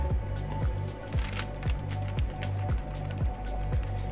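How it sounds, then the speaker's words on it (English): A small noisy tumbler turner rotates a tumbler during alcohol ink crafting, giving a rhythmic repeating clunk and thud about twice a second, close and steady. "I have a noisy little tumbler turner"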